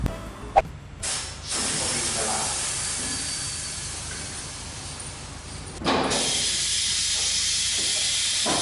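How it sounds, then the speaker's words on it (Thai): A pneumatic tyre bead breaker works on a motorcycle front wheel in a tyre shop, giving off a long, steady hiss of air that stops briefly and then resumes with a sharp burst. "ต่อจากนั้นก็มาเข้าเครื่องกดยางตามที่เห็นเนี่ยครับ กดยางเพื่อไล่ขอบให้มันหลุดขอบแล้วเขาก็เข้าเครื่องงัดยาง"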